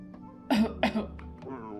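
A game character in Dave the Diver gives two harsh, close coughs in quick succession, followed by a softer throat sound.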